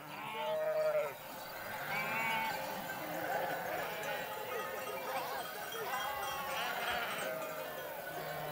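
A flock of sheep bleats repeatedly, several animals overlapping at moderate distance, calls rising and falling over a steady outdoor murmur as the herd moves toward its pen.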